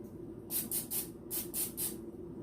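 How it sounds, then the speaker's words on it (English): Several short hissing bursts of non-stick cooking oil spray in two groups of three, close by, over a steady low background hum. "I just take a little oil, non-stick oil, and just spray"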